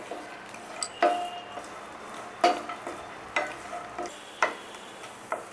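Cashews and dry fruits fry in ghee in a pan for pumpkin halwa, a gentle sizzle broken by regular scraping stirs of a ladle every second or so, close and clear.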